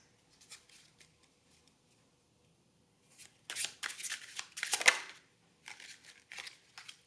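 Tarot cards shuffled and handled, pulled one by one from a deck: soft papery riffles and slides in bursts, quiet at first then a louder run of card flicks, close and alone.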